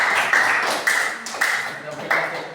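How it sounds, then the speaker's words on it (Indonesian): Students in a high school mathematics classroom clap for a student group, a few claps in loose bursts close by, with talk underneath. "Kita berikan tepuk tangan."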